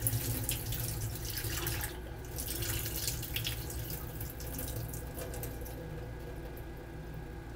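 Raisins are rinsed under cool running tap water, a steady splashing hiss at moderate level with small irregular patters throughout.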